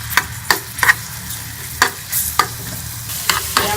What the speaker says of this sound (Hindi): हम लहसुन का पेस्ट डाल के इसको थोड़ा सा फ्राई कर लेंगे